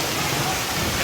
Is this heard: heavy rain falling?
yes